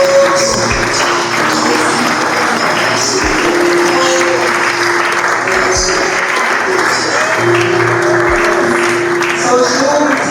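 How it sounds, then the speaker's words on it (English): Sustained applause from a seated-then-standing audience giving a standing ovation at a family summit talk, a dense steady wash of clapping filling the whole stretch, with some voices underneath. "Ladies and gentlemen, with a standing ovation and a round of applause,"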